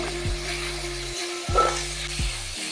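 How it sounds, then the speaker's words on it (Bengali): Garlic paste and onion fry steadily in a pan for a Bengali chicken roast, a continuous close sizzle broken by several scraping stirs of the spoon, with no voices. "এরপর দিয়ে দেবো রসুন বাটা পেঁয়াজ আর রসুনকে খুব ভালোভাবে ভেজে নিতে হবে"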